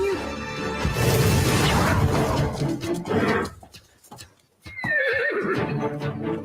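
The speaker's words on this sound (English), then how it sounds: "You're a horse." A horse lets out a loud, drawn-out whinny with quavering pitch, followed by a quieter gap and then a second neigh with sharp thuds like hoof strikes, heard close and clear.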